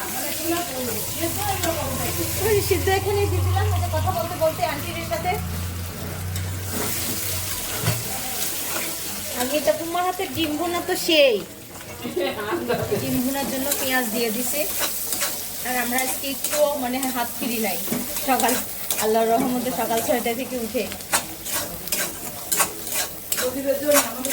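Fish frying in a pan on a home stove gives a steady, close sizzle that runs the whole time, with stirring scrapes and clatter mixed in and faint voices in the background.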